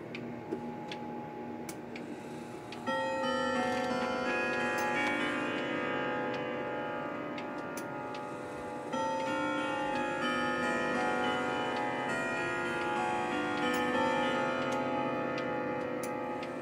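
A Howard Miller grandfather clock ticking steadily indoors, with sustained chime tones ringing over the ticks, loud and close throughout.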